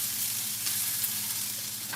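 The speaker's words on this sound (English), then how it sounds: "let me stir this up." Onions frying in a pan are stirred, giving a steady, close sizzle with soft scraping movement running unbroken for about two seconds.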